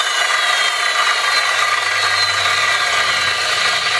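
A corded Sawzall-type power tool motor without an electric brake winds down slowly after switch-off, a steady broadband whir that holds on at close range with no voices.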